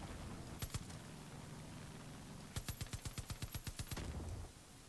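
Video game gunfire: two quick shots, then a rapid rattling burst of about a dozen rounds in even rhythm, sharp and moderately loud over a low background hum.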